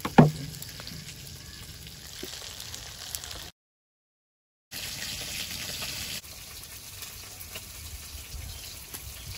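Mrigel fish sizzles steadily as it fries in hot oil, a close, even crackle that is briefly cut to silence partway through, with no one talking.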